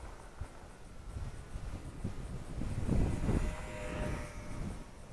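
A light Volantex Sport Cub 500 RC plane drones overhead in a 4 to 6 mph wind, its small motor a steady hum that swells near the middle and then eases, with wind noise mixed in throughout.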